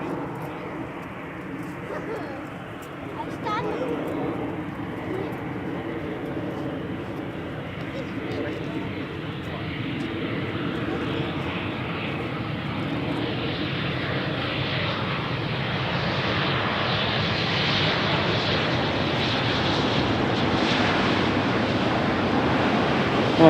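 An Embraer jet in SkyTeam livery lands on runway 18R at Amsterdam Schiphol, its engine roar building steadily from a distant rumble to a broad, louder wash, with wind noise throughout and someone talking over it.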